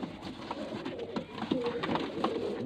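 Pigeons coo in low, soft, repeated calls, close by, with a few overlapping coos and slight background rustle.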